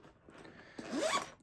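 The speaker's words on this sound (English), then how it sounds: "Zipper" A zipper slides open on the back pocket of a fabric laptop sleeve: one quick, close rasp that builds toward the end, with quiet handling before it.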